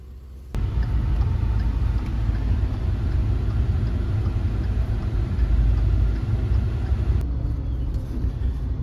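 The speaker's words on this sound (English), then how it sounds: "Well, got the tractor loaded up." A farm tractor engine running while the tractor is loaded onto a trailer, kicking in suddenly and holding a loud, close, steady low rumble to the end.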